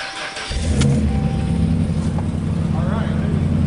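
A Ram pickup truck's engine idles steadily and close by after a brief quieter start, its low rumble holding loud and even throughout.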